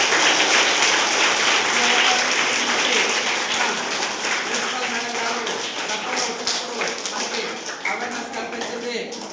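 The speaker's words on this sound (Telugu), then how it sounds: "ఈరోజు అందరి ద్వారా క్లాప్స్ కొట్టి ధన్యవాదాలు తెలియజేస్తున్నాను" An audience claps together in thanks to a vice principal at a school event. The dense, loud applause is strongest at the start and slowly thins and fades over about nine seconds.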